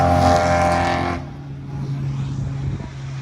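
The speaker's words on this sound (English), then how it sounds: "it's only right we end the video off with the F12's exhaust now" Ferrari F12 V12 exhaust blares loudly at a car show, a strong high-pitched rev that cuts off abruptly after about a second, leaving a lower rumbling idle and background crowd noise.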